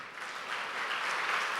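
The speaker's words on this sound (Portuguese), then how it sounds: "se você puder aplaudir o Senhor" Congregation applauding the Lord during a church service, a steady, dense wash of clapping that swells slightly and holds for the whole stretch with no talk over it.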